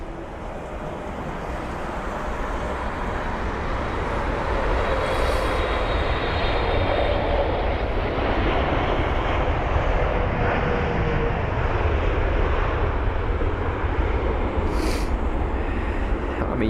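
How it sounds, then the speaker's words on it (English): British Airways Boeing 777 landing at London Heathrow, its jet roar swelling over the first few seconds and then holding steady and loud for the rest of the span. "We've got the British Airways 777 now up next"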